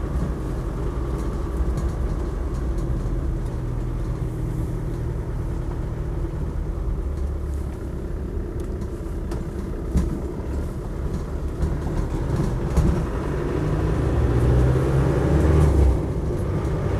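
A Land Rover Defender 90 with a 300Tdi diesel engine and military-spec tyres pulls away, a loud, steady low rumble that builds near the end as the turbo comes in.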